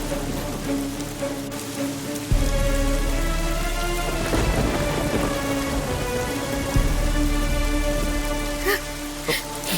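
Heavy rain pouring outside a house in a Tamil TV serial, dense steady downpour with a low rumble of thunder and music beneath, constant and close with no speech.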